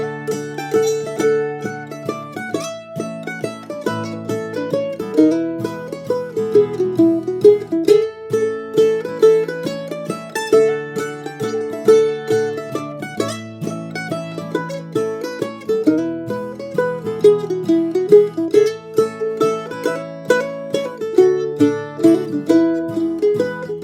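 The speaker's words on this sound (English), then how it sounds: "And the full Jolie Blon with all of the embellishments added will sound a bit like this." Mandolin plays the Cajun waltz Jolie Blon with added embellishments, a steady stream of bright picked notes and lilting melodic runs over rhythmic chording, loud and solo throughout.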